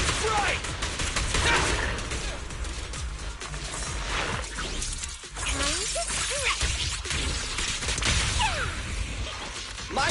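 Rapid gunfire and shattering impacts fill a combat sequence in Zenless Zone Zero, with dense, loud, continuous bursts and whooshes throughout and brief voice snippets mixed in.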